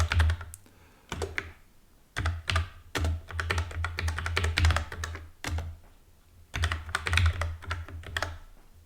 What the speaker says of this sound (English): just for clarity, I'll type it out